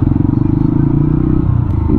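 A motorcycle engine thrums steadily at close range while riding along a road in Cebu, its low, pulsing throb continuous and loud throughout.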